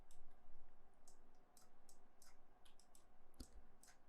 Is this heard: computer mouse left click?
yes